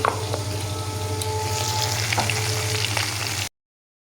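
Black cumin seeds tempering in hot oil, a loud continuous close-up sizzle and crackle with a few sharp pops before the sound cuts off abruptly.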